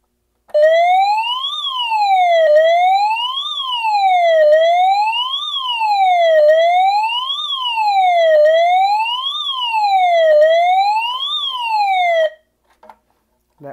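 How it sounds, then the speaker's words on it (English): A loud Simplex 49CMT-WRF MultiTone horn siren wails up and down in a steady repeating cycle, sweeping smoothly between low and high pitch for about twelve seconds before cutting off. "So let's do Siren."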